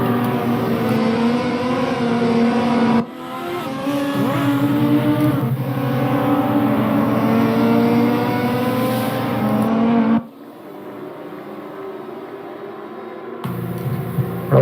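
Lotus Evora race cars circulating on a track during a championship race, engines droning loudly as a train of cars passes close by, with sustained roaring tones, brief drops and a quieter gap before another car approaches.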